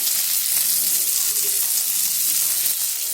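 Tomato masala for idli kurma frying in a pan, a steady, close hiss of sizzling oil that carries on without break and without talk.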